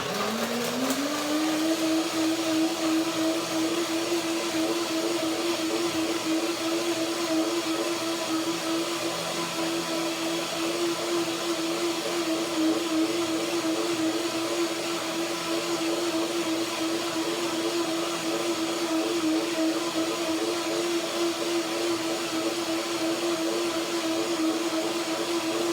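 A blender revs up quickly and then holds a loud, steady whir for about 25 seconds, puréeing a curry cashew salad dressing with banana and garlic. The motor stays close and runs alone, with no talk.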